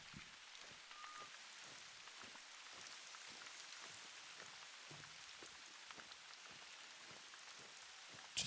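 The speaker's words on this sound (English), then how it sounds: "Just listen to that rain." Steady rain falls across a wooded hunting landscape in theHunter: Call of the Wild, a continuous soft hiss with scattered close droplet taps, quiet and unbroken throughout with no voices.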